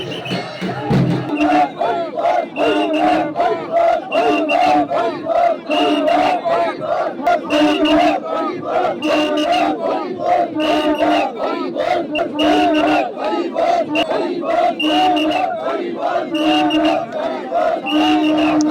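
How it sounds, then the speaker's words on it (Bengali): Hindu protest march in Sridham Orakandi, with a large crowd rhythmically chanting slogans and kirtan over drums, loud and continuous with a repeating pulse throughout. "প্রতিবাদ মিছিল নিয়ে ডঙ্কা কীর্তন ও প্রতিবাদ স্লোগানে কম্পিত হতে থাকে শ্রীধামের বুক"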